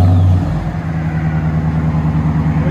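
A 2013 Dodge Durango R/T with a 5.7L V8 and Dynomax Bullet mufflers gives a brief opening rev, then settles into a loud, close, rumbling idle.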